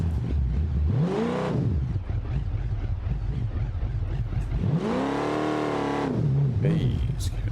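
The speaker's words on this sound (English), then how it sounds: "start the car back up" A drag car engine in the BeamNG driving game starts and revs hard in two long rising and falling surges, loud and close, with a rough idle burbling between them and a voice talking over part of it.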